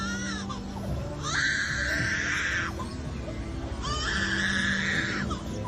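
A wild bird imitates a crying baby, giving two drawn-out wailing cries separated by a short pause against faint outdoor background noise.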